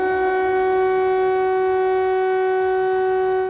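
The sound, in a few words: air raid siren in Ukrainian city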